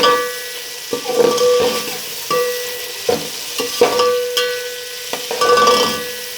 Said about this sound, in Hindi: और अब इसमें मैंने ऑयल डाला है और इसे अब मैं फ्राई करने लगी हूँ।